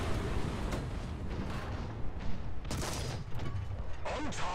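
Artillery shells in War Thunder ground battles, with German tanks in play: a dense barrage of booming blasts and rumbling impacts, a few sharper bursts standing out above a constant roar.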